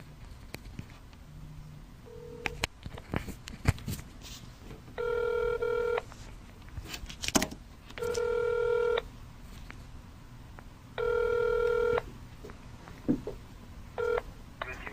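A landline call placed for a phone interview, with a few short keypad dialing tones followed by three evenly spaced ringback tones, each about a second long, over faint room noise.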